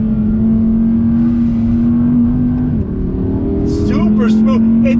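A 2020 Audi R8 with a V10 engine accelerates on throttle on a track, its high, smooth engine note holding steady, briefly dipping, then climbing again. A voice is heard near the end.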